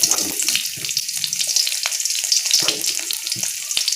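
Shallots and garlic hit hot oil in a pan, a bright continuous sizzle and crackle with occasional sharp pops and stirring clatter, close and loud with no talking.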